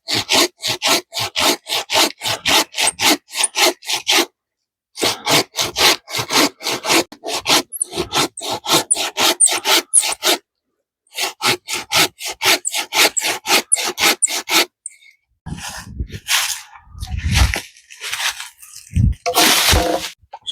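Hand saw cutting through a wooden branch at a camp, fast rhythmic rasping strokes in three long runs broken by brief pauses, close and loud, ending with rougher scraping and crunching.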